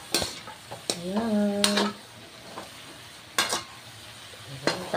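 Winged beans (sigarilyas) sautéing in a pan are stirred with a utensil, bringing a few sharp scraping clacks against a low sizzle, while a voice says a short word.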